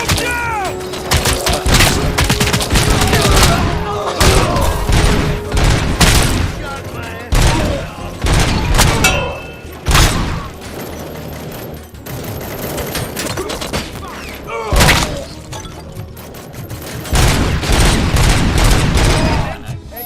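Heavy gunfire from the RoboCop: Rogue City video game, with loud repeated bursts and booming shots packed densely throughout, mixed with thuds and mechanical noises, while voices speak over the combat.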